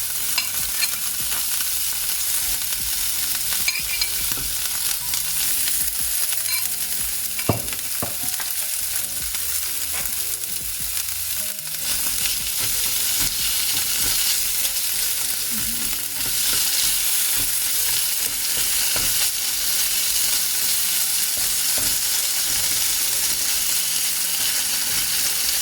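Bacon and mince with peppers and mushrooms frying in a pan, a loud steady sizzle with occasional stirring scrapes and clinks, close up and continuous, no voices.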